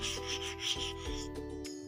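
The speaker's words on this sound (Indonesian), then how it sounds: "bersihkan dengan amplas yang halus dengan cara" Fine sandpaper rubs against the commutator of a conventional car starter motor in short repeated strokes, four or five close, quiet scrapes in under two seconds.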